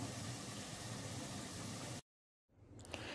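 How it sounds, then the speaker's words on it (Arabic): Pastry cigars made from thin rolled dough sizzle while frying in hot oil, giving a steady dense hiss that cuts out suddenly, then returns more faintly with small crackles. "كملت القلي تاع الكاطو تاع السيغار"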